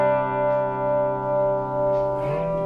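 Electric guitar played through a Boss ME-80 multi-effects unit's Tweed amp simulation, sustained harmonic-rich chords ringing with a gentle wavering swell, then a brighter strummed attack near the end, with a bit of reverb in the tail.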